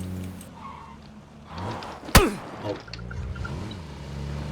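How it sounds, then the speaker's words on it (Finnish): A car engine in PUBG hums nearby as a vehicle passes, rising and falling with a sharp skid-like burst in the middle, moderately loud and steady. "Ja auto kuuluu täällä näin."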